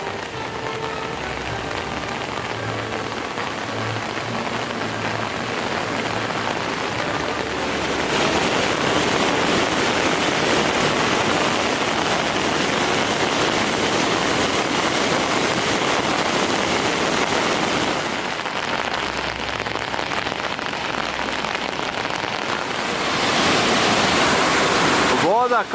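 The Trebuščica stream roars in flood in the Tolmin area, a dense, loud, continuous wash of rushing water close by that swells even louder partway through, with no other sounds breaking through.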